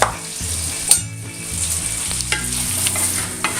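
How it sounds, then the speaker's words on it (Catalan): Broad beans and onion stirred in a casserole for Catalan-style faves, a steady sizzle of frying under repeated scraping strokes of a utensil, close and fairly loud, with no talking. "I les remenem una miqueta."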